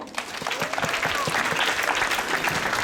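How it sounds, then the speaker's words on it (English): An audience at an abacus interactive day claps steadily for a few seconds, a moderate patter of many hands in a room, fairly soft and even. "Let's clap for yellow."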